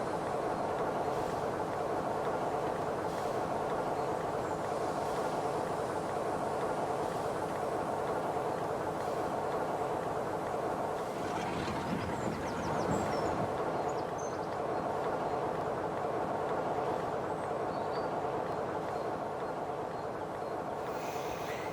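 Trains rumble through a busy station in the Trainz 22 railway simulator game, a steady, faint rolling drone with a brief louder surge in the middle, no voices.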